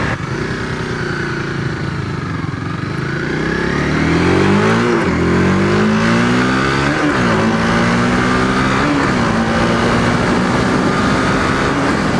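A Honda Rebel motorcycle engine revs while riding, loud and close, rising in pitch through gears with brief dips at each shift.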